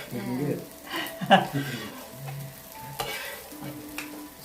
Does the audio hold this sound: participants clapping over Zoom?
no